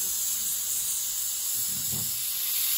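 Tomatoes, onions and garlic grilling over a flame for palak gosht give off a steady, faint hiss throughout, with a brief soft low rustle near the end.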